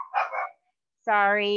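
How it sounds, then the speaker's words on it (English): Household dogs bark in a short burst near the mic during an indoor quilting tutorial, then a person speaks over a sustained tonal sound. "excuse my dogs"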